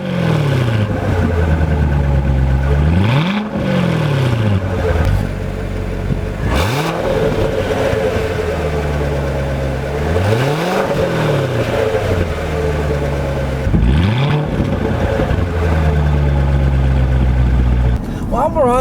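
A 2015 Chevrolet Corvette with the optional sport exhaust and 8-speed automatic revs repeatedly, its engine note rising and falling in several loud sweeping surges with brief gear-change dips between them, close to the listener.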